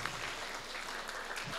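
An audience applauds a film producer with a continuous, even burst of clapping from many people in a hall, steady in level from start to finish.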